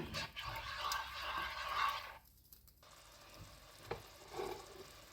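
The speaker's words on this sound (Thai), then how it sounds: "ผัดพริกแกงกับกะทิให้หอมนะคะ" Curry paste and coconut milk are stir-fried in a pan. There is close sizzling with scraping stirring strokes, a brief quieter pause, then more stirring scrapes.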